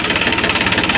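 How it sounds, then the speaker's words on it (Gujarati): A farm tractor engine runs steadily nearby, a loud throbbing diesel chug with even rapid pulses for the full second and no voices. "આપણે ટ્રેક્ટર ચલાવીએ છીએ"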